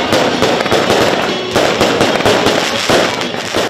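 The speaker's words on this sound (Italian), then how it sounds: "per finire anche fuochi d'artificio" Fireworks at a basketball club's promotion celebration party, loud continuous crackling and booming bursts packed close together, rumbling and popping without pause.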